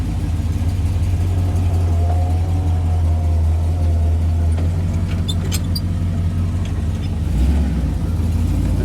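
A 1929 Ford Model A hot rod shop truck's engine runs steadily at close range, a deep continuous rumble holding through the whole stretch with a brief swell near the end and some light rattles on top.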